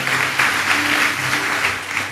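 A church congregation applauds, a dense, continuous round of clapping filling the short stretch at steady loudness.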